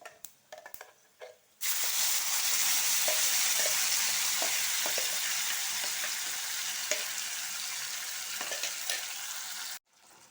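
A ground onion and tomato paste for spinach gojju hits hot oil in a pan and bursts into a loud, steady sizzle that runs for several seconds with light stirring clicks, then cuts off abruptly.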